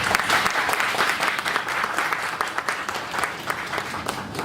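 An audience at a school chairman's birthday celebration applauds, dense clapping starting strong and slowly thinning, with a faint voice or two under it.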